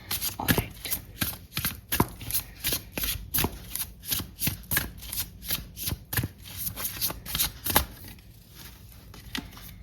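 A deck of guidance cards for a tarot reading is riffled and shuffled close up in quick repeated bursts of flicking and snapping card edges, steady for several seconds and easing off near the end, with no talking.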